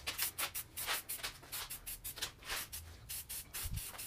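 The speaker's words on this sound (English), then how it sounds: "We'll spray the top side, wait about 10-15 minutes, flip it over, spray the bottom side" Aerosol spray paint can coating a part for a large mower's clutch rebuild, heard as a quick run of short, faint hissing bursts in an uneven rhythm.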